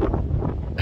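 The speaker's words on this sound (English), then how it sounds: "That is the wind." Wind gusts across a microphone outdoors near a work truck, a steady low rumble of buffeting that holds throughout the short burst, loud and close with no talking.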